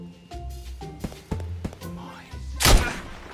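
Gunfire in the video game Escape from Tarkov: scattered dull thumps and knocks lead up to one loud, sharp shot with a noisy burst and short tail, fairly close.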